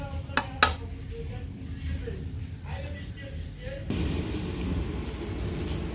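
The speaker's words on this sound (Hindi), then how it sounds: "ये देखें, बारिश हो गई है, बारिश बाहर" Steady heavy rain hisses outside in the open, a dense broadband wash that grows louder partway through, with a couple of sharp clatters of dishes or pots near the start.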